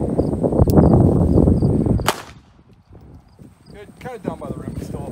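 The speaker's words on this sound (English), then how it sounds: "now we're going to be rocking the 9x18 Makarov out of the CZ82 pistol" A CZ82 pistol firing 9x18 Makarov rounds at a Yugoslavian M89 Kevlar helmet outdoors, a single sharp, loud shot cracking after a stretch of rustling and movement, followed by talking.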